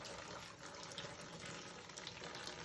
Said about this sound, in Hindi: उनका पानी हमारी लाइट में से निकल कर ये नीचे आ रहा है